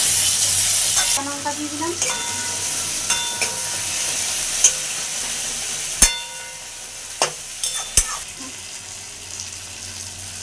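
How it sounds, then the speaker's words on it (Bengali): Ginger and chopped tomato masala frying and being stirred in a pan, a steady sizzle with scraping stir strokes and a few sharp clinks, while someone speaks briefly over it. "আদাটা দিয়ে আরেকটু ভালো করে ভেজে নিচ্ছি"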